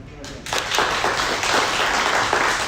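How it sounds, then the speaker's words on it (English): An audience at a realtors' business event bursts into a round of applause after a brief quiet start, dense clapping sustained to the end. "Let's give her a round of applause"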